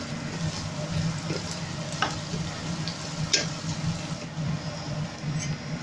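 Tempeh sautéing with garlic and shallots in a pan, a steady close sizzle and crackle with occasional scrape of stirring, continuous with no voices.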